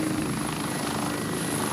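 Civil security rescue helicopter at its base, a steady rotor and engine drone holding at an even level throughout with a constant high whine, no voices.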